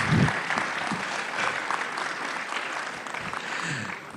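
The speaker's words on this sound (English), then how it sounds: "You can be a little more generous with the applause." Audience at the News18 Rising Bharat Summit applauds steadily for the full stretch, a dense even wash of many hands clapping in a large hall with no voices standing out.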